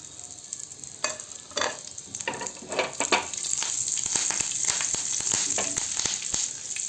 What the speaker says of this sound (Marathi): आता तेल तापलं आहे आपलं, त्यामध्ये आपण मोहरी आणि कढीपत्ता याची फोडणी करूया।